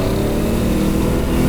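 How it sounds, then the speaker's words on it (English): A loud, continuous engine drone from an LS V8 swapped into a Subaru BRZ, heard up close with a steady throaty hum and slight rising pitch as it revs on a cold day. "Wow, it revs up really quickly."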